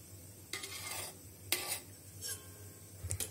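A utensil stirring cream and chocolate in a bowl, with a few soft scraping, clinking strokes spaced across a quiet room and no voices.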